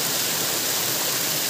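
Water plunges down a towering falls, making a constant broadband roar that sounds close and powerful and never eases, with no voices over it.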